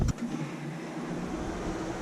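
A dehumidifier runs in a humid room, a steady, dull mechanical hum and airy whir that holds constant throughout, fairly faint, with a short bump at the very start and no voices.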